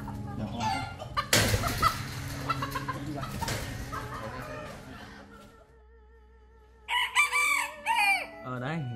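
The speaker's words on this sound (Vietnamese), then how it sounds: "gà nhà mình gáy cái nó gáy ngay" A farmyard rooster crows at a rural Vietnamese pen shared with goats and other chickens. One loud, drawn-out crow rings out near the end, after earlier clucking and rustling noises.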